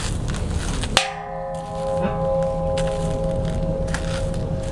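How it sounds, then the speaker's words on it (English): A test bell at Kubota Garden in Seattle is struck once with a sharp clang, then rings on in a clear, sustained hum that slowly fades. "So here's our bell at Kubota Garden."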